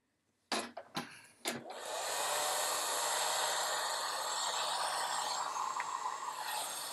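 A few sharp clicks and knocks, then a hair dryer switches on and blows with a steady loud whoosh over a watercolor painting of a lake scene, running alone for several seconds.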